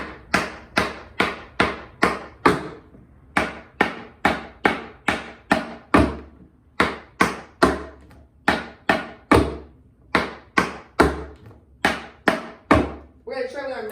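Tap shoes beat out dance shuffle steps in a steady run of crisp, close metallic taps. The taps fall in quick rhythmic groups separated by brief pauses, continuing for many repetitions.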